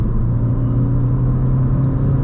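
A Ford Focus ST engine drones steadily under boost, a loud, close, continuous low rumble with a sustained hum, heard alone without any talk.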